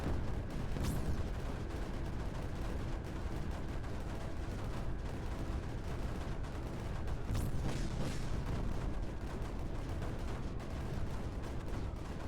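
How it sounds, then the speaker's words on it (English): Landmine explosions in the video game Creeper World 4 sound as a few sharp booms over a dense, continuous rumble of battle noise, all fairly quiet and distant. "I love just the the big old explosion that happens immediately, the literal second they land."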